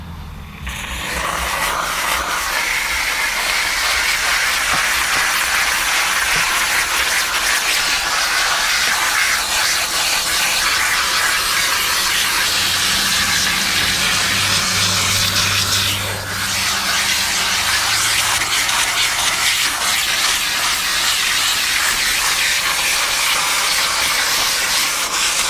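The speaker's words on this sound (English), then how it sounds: "So what I'm going to do is I'm just going to steam." A steam cleaner runs on a car interior, giving a steady, loud broadband hiss that continues almost unbroken for the whole stretch, with a faint rubbing texture beneath and no talking.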